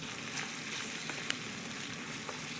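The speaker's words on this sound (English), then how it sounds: "Now let's put our eggs into the mixture of onions and tomatoes." Beaten eggs with salt frying in a pan with browned onions and tomatoes, a constant close sizzle with light crackles and a brief clack partway through, no voices.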